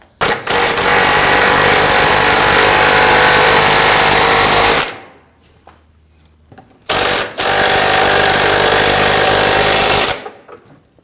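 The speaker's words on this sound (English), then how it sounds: "We're going to put our wrenches on the top and tighten down these bolts while holding those nuts." A power wrench rattles loudly while tightening bolts on the front CV axle of a 2009-2017 Volvo XC60 3.2L, in two long, continuous hammering bursts of about five and three seconds separated by a quiet pause.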